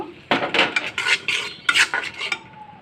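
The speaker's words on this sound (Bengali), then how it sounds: "এখন আমি চিংড়ি মাছগুলো দিয়ে দিব।" Prawns dropped into a pan of spice paste with cumin and coriander powder, then stirred: a burst of close scraping and clattering of a spatula against the pan, loud and busy, with a brief pause midway.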